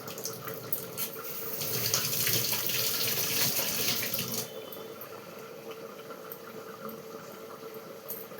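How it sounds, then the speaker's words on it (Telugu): Kitchen tap water running steadily as fresh mint leaves are rinsed, a continuous splashing hiss that swells louder in the middle, then settles to a softer flow. "పుదీనా కడిగి."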